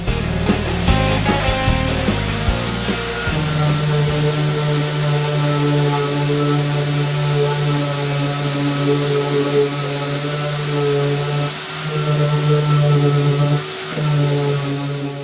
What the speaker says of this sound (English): we get to do a whole bunch more sanding